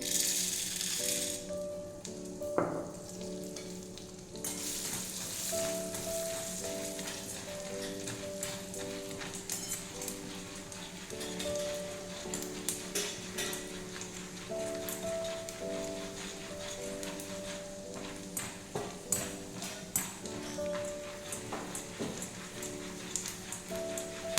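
Popcorn kernels with a little salt rattle and pop in a pan at home, a steady busy crackle of many small sharp bursts running throughout, close and fairly loud, with a faint tonal hum underneath.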